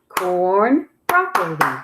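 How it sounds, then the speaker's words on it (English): A voice chants vegetable words syllable by syllable in a kindergarten lesson, each syllable marked by a sharp hand clap, three or four close claps in a steady beat beneath the spoken words. "I'm going to clap it and say it and you echo after me"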